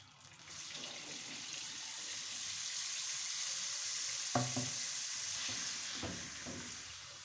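Flour roasting in melted fat in a pan on the stove gives off a steady, soft sizzle and hiss throughout, with a few brief scraping clicks from stirring near the end.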